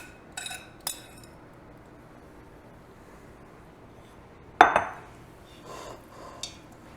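A utensil scrapes leftover sugar from the bottom of a mixing bowl into egg-free chocolate chip muffin batter. Brief scraping and clinking strokes come close up, separated by quiet pauses.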